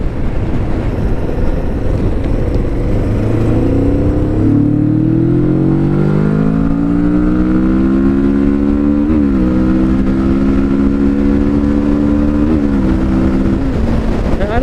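A Kawasaki Vulcan S 650 motorcycle pulls hard through the gears, its engine note rising steadily with brief dips at each shift, loud and close under heavy wind rush.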